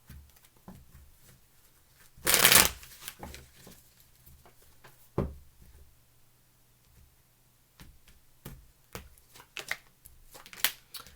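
Bursts of card shuffling, a loud riffle followed by several quieter ruffles and taps spread through the clip, no voices.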